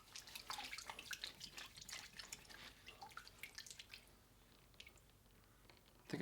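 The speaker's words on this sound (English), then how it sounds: "You ever wash your hands in a bucket?" Hands slosh and splash in a bucket of water, giving close, irregular watery swishes and drips for several seconds before quieting, ending with a louder handling noise.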